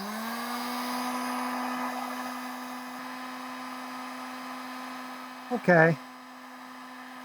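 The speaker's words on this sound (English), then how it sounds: "So put it on high and just heat up the end of the tube until it starts to melt." A heat tool on its high setting blows a steady, loud electric whine and airflow while warming the end of a caulk tube, with a brief voice near the end.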